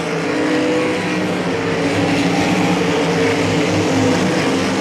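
Sprint cars in a 305 Sprint main event at Hagerstown Speedway, a dirt oval, roar continuously as the pack runs nose to tail. The engine drone is loud and steady throughout.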